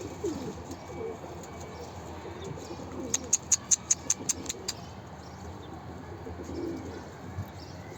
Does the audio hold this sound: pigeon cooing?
yes